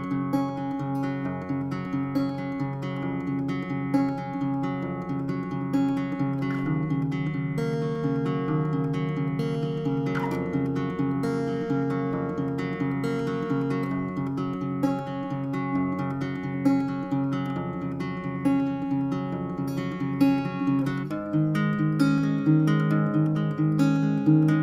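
Acoustic guitar plays the bridge of a song, a steady strummed chord progression heard close and alone, with no voices.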